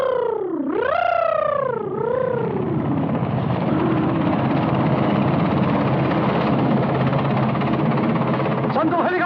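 A helicopter flies loudly and close overhead in a dramatic film scene, its whining, pitch-bending rotor and engine roar sweeping past and then settling into a dense, steady drone.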